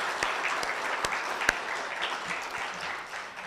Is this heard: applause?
yes